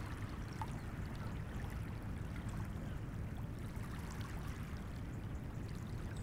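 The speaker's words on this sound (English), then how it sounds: "The light sensations and calming sounds as you move with the water." Water lapping around a paddle board during a guided meditation, heard as a quiet, continuous low wash with soft trickling, faint and steady throughout.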